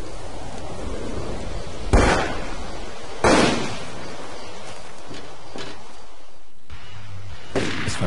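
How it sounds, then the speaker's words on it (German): Gunshots in the Overclocked video game crack out as a few loud, sharp bursts spaced several seconds apart over a low ambient rumble. "Es fallen Schüsse."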